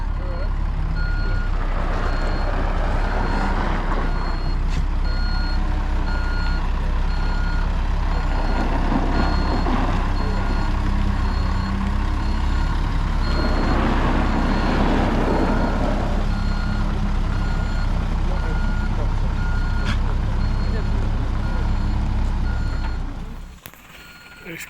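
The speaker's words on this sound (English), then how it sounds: "She don't fit in forward, so we're going to back her up and come back in." A pickup truck with a trailer in tow reverses up a residential driveway, its steady reversing beeps pulsing over a constant diesel engine rumble for the whole stretch, with a brief air-brake hiss as the engine cuts off at the end.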